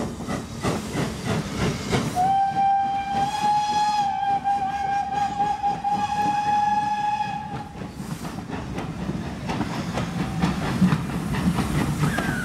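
A steam locomotive whistle from BR Standard Class 9F no. 92212 sounds one long sustained note over the hiss and rhythmic chuffing of the train, departing Ropley.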